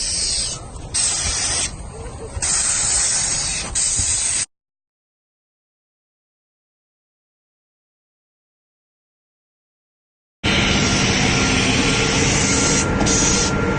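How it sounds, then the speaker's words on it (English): A spray rig applies spray foam onto a metal roof during a restoration, giving a loud, steady hiss in two bursts separated by several seconds of silence. "Still putting down the spray foam over here,"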